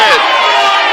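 Wrestling crowd at a GIPW independent show roaring and cheering loudly and continuously, a dense wash of many voices with shouts rising above it and no pause.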